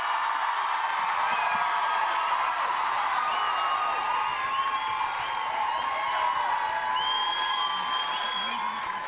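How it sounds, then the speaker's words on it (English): Rugby crowd at a women's Six Nations match between Scotland and Ireland, cheering, whooping and applauding steadily and loudly throughout, a dense wall of voices with scattered shrill whistles and shouts rising above it. "This crowd are absolutely loving this."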